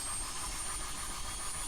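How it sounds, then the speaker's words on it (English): A steady, broadband electrical whine and hum fills the air without pause, the power supply of a helicopter in a simulator game feeding all its components before engine start; no voices. "This noise you are hearing is the power being supplied to all components."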